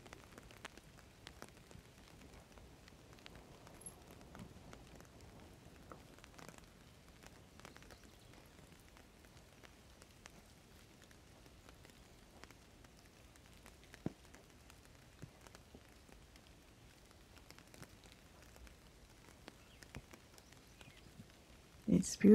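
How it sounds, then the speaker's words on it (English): Rain falling on garden plants and flower petals in June, a faint steady patter with scattered soft drop ticks, quiet and close throughout. "It's beautiful watching the rain on the petals, the drops of water on the petals."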